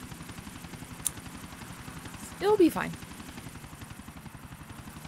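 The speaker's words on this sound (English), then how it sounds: "I can barely drive, but I'm flying a gold chopper" A gold helicopter flies in GTA IV: The Ballad of Gay Tony, its rotor a steady rapid chop throughout, with a brief louder swell in the middle as a voice speaks briefly over it.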